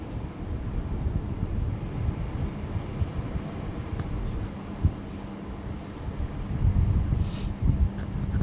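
Steady outdoor wind gusting and rumbling against the microphone while an MSR Whisperlite camping stove is primed with liquid fuel in a priming cup, a low continuous roar with a few soft knocks and no talking.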